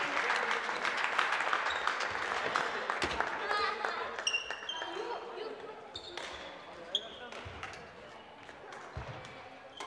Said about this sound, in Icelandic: Skulum klappa.